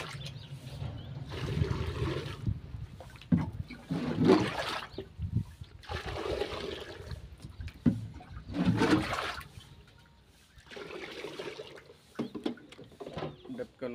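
Water splashes and sloshes in bursts as a cattle drinking trough is scrubbed clean, with some pauses between the splashes and a person talking nearby.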